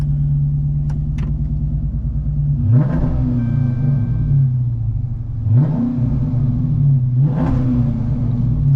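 Heard from inside the cabin of a Dodge Charger Pursuit, a deep idling engine rumble broken by three throaty revs that rise and fall back, loud and close.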